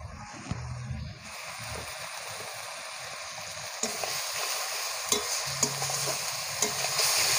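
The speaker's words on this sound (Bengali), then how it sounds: "আমি মশলাটা ভালো করে কষিয়ে নেব।" Spice paste with chopped tomato fries and is stirred in a pan, giving a soft continuous sizzle broken by occasional scrapes and clinks of the spoon, close and fairly quiet.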